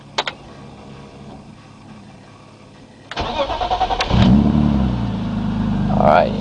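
A 1988 BMW E30 325 with a swapped S52 engine cranks and catches, then revs in several quick bursts through a UUC Motorwerks exhaust before settling into a loud, throaty exhaust rumble close by.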